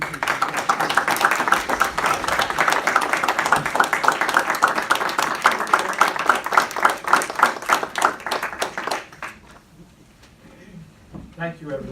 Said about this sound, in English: please join me in a round of applause for everything she's done